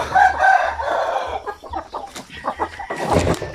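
Several chickens clucking up close, a burst of throaty calls followed by scattered softer clucks and a sharp squawk.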